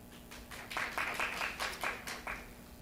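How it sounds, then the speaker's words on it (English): A symposium audience at Comic Con 2014 claps briefly, scattered light applause from a modest crowd that swells after a moment and then thins out, heard from some distance at low volume. "So again, some applause."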